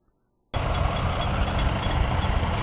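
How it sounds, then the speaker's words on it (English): After a brief silence, new and antique farm tractors lined up for a tractor ride in Floyd County, Virginia idle together in a loud, steady, close diesel rumble. "bringing in these beautiful tractors for the tractor ride today"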